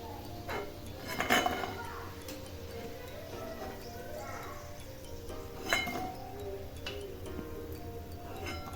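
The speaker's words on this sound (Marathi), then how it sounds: "तळून झालेले आहेत तर आपण एका डिशमध्ये काढूयात." Fried sweetcorn pakoras are lifted out into a dish, giving a few quiet clinks of utensil on plate and scraping sounds, near but soft, with a brief clatter at the start and another later.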